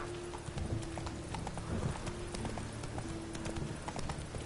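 Horse hooves clip-clopping in a rapid, steady gallop in The Witcher 3: Wild Hunt, continuous and fairly quiet, with a low background hum and a brief whinny-like tone.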